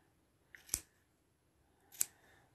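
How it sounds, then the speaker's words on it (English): Scissors trim a handwoven wool inkle band with two crisp, close snips about a second and a quarter apart, the first preceded by a faint blade slide, in a quiet room. "I'm trimming it with a little bit of an angle"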